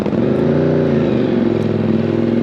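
A 2023 Ducati Panigale V4 engine holds a steady, loud, close rumbling drone indoors, unbroken throughout, with no speech.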